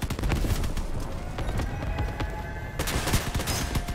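Rapid volleys of heavy weapon fire from Trombone guns in the Crossout vehicle combat game, a dense continuous barrage of repeated bursts, loud and close, with no talk over it.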